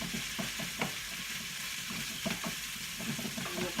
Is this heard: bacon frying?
yes